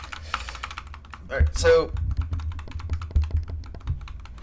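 Computer keyboard keys are pressed during a Kamilia 2 speedrun, giving a close, steady patter of clicks and taps, with a short spoken phrase over them partway through.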